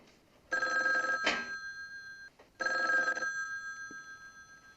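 A telephone in a phone booth in a movie rings in two bursts, a bright electronic bell trill with a pause between rings, fairly close and clear over quiet background.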